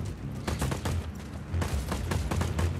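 Gunfire rattles in Just Cause 4 as rapid bursts of loud shots, several volleys in quick succession over a low rumbling background.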